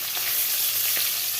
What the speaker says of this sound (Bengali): এই যে মাছ ভাজা বসিয়ে দিলাম